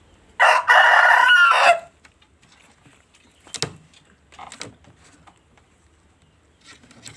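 Chicken suffering from a respiratory illness, one loud close rooster crow lasting about a second, then scattered softer clucks and short rustling sounds against a quiet background.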